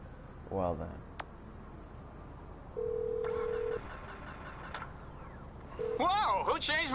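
An in-game phone ringtone from Grand Theft Auto V, a short electronic melodic tone that rises clearly above the game's background ambience. A flat electronic beep and a few other brief game sounds come before it.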